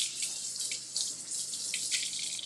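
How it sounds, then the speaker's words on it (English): Hands are washed under a running kitchen tap during a cooking demonstration; the water hisses and splashes steadily and close for the whole stretch, with no talking. "Wash my hands."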